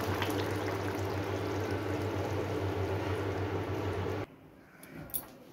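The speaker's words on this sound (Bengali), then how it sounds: "আমি এটাকে সার্ভিং বলে ঢেলে দেবো" Jackfruit curry poured from a pan into a serving bowl, a thick steady wet pour lasting about four seconds before stopping abruptly, followed by faint clinks and quiet handling.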